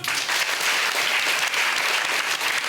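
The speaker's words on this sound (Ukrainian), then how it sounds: "Ваші оплески, друзі!" Steady, dense applause from a theatre audience at a Ukrainian comedy show, a continuous wash of many hands clapping with no voices standing out.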